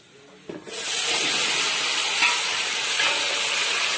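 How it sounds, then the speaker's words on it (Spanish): Garlic frying in oil bursts into a loud, bright, steady sizzle after a brief quiet start, holding a dense hiss close up for the rest of the clip. "Este ajo cuando uno lo sofría igual es riquísimo"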